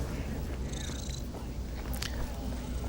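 A cat settled on a desk purrs in a soft, continuous low rumble, close and quiet, with a faint voice in the background.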